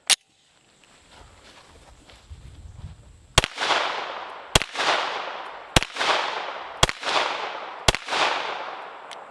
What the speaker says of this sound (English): when I am pulling this trigger, bang, gun goes off, cycles